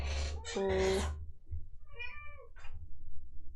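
A pet cat meows loudly and close up, one long drawn-out meow followed by shorter, fainter meows, with low household background noise.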